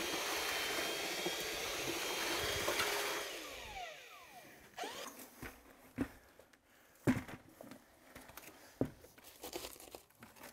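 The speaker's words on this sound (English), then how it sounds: "if you're mixing concrete in a bucket, is to get one of these mud mixers" A mud mixer paddle churns thick concrete in a bucket for a tile shower build, giving a loud, steady whirring grind for about three seconds, then stopping; scattered knocks, scrapes and clunks follow, with the mixer stirring intermittently between them.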